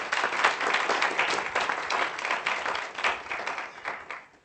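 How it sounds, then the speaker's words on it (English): Graduation ceremony audience clapping together in sustained, dense applause that holds steady for several seconds before gradually tapering off. "Let's give him a round of applause"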